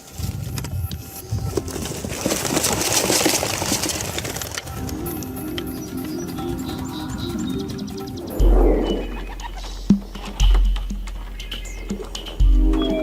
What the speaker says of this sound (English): we open the box and let the pigeons go